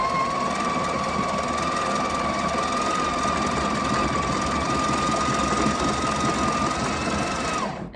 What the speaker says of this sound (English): I keep shaking it while it's grinding so that it's level and I can fit all 17 grams of ground coffee beans